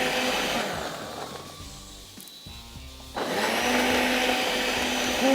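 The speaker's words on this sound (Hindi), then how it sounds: "खूब बारीक पीसें, जितना बारीक पीस सकते हैं उतना अच्छा है।" An electric kitchen grinder finely grinds pasta salad ingredients into a smooth paste, a steady loud whirring that dips and falters partway through before surging back to full strength.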